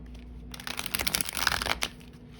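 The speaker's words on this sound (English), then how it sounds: "I don't know about riffle shuffling this. I most likely will overhand this." A deck of playing cards is overhand shuffled by hand, a close burst of quick papery slaps and flutters lasting about a second and a half, with quiet before and after.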